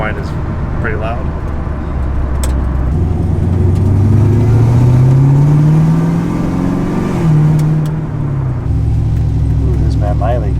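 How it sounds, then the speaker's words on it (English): A supercharged car's engine drones while driving, a loud steady rumble with a rising then falling whine as it accelerates and settles. Someone talks over it throughout. "The supercharger whine is pretty loud."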